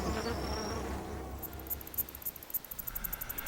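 Parasitic flies clinging to a feeding bee, heard as a faint insect buzz and high whine over a low rumbling background, with a pulsing rhythm toward the end.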